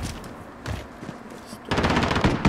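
Bursts of rapid automatic gunfire from a Modern Warfare Search and Destroy match, a short burst first and then a sustained, louder stream of shots toward the end. No one speaks over it.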